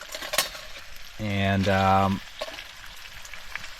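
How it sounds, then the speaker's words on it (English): Bacon frying in a pot on a small, wobbly camp stove outdoors in snow, a short sizzling burst of about a second amid quiet surroundings, with faint speech nearby. "I've got the bacon on the go here"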